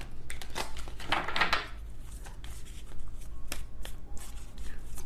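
Tarot cards riffled and shuffled close by, a burst of crisp papery flutter followed by softer scattered handling clicks.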